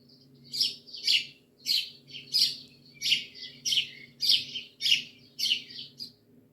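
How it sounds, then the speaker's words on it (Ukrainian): A small grey sparrow chirps in a steady series of about ten bright, clear tweets, evenly spaced and close, with a faint low hum underneath. "Вірно, малята, це горобець."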